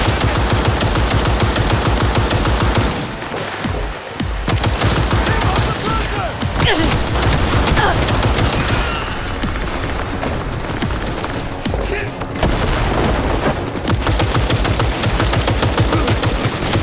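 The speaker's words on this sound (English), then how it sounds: "Keep firing now, damn it!" Sustained automatic gunfire in the video game Cyberpunk 2077 rattles loud and dense for most of the stretch, with brief lulls and heavier booms breaking through the relentless firing.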